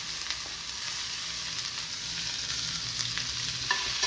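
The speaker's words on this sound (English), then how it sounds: "So I take my beef fat, it's moving quickly, so I'm going to put in some onions." Onions frying in hot beef tallow in a pan, a steady close sizzle with occasional stirring scrapes throughout.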